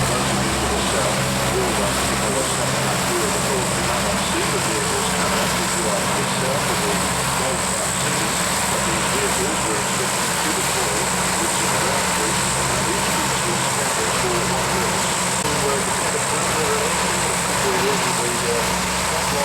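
A propeller military aircraft at an air show rolls to a stop with its rear ramp lowered, engines droning loudly and steadily throughout, with a commentator's voice running over the noise.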